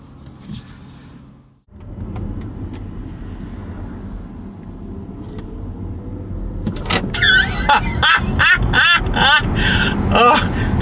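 A Volvo XC40 Recharge electric car reverses out and pulls onto the road, its quiet motor whir and tyre noise rising steadily, with a series of short electronic chimes and beeps sounding near the end.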